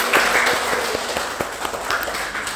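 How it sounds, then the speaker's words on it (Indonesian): Participants in an Indonesian training session give a short burst of applause, a handful of distinct, fairly close claps in loose rhythm, with some murmuring underneath. "Oke, tepuk tangan dong untuk kita semua dong."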